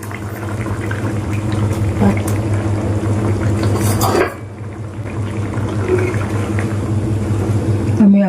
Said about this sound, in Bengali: দেখো ঝোলটা ফুটে গেছে আমি এবার ডিমের ধোকাগুলো এর মধ্যে দিয়ে দেবো একটা একটা করে সব